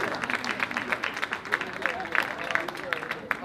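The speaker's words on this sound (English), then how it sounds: "Can I get a clap for that, please?" An audience at a 2017 launch event in Ghana claps in a steady burst of applause, with a voice talking over the crowd throughout.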